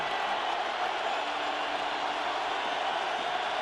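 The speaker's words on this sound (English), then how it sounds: "this crowd lets the Eagles hear it, starting at their own 4" A stadium crowd at an NFL Wild Card playoff game, Philadelphia Eagles at Minnesota Vikings, roars in a dense, unbroken wash of cheering and noise that stays loud and steady throughout.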